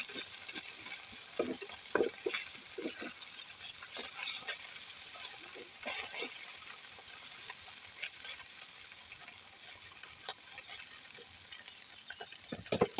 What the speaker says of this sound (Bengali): একটু আমি কড়াইয়ে পোড়া পোড়া করে ভেজে নিব